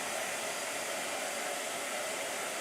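A blow dryer runs at a loud, steady roar from start to finish, close by and with no other sounds over it.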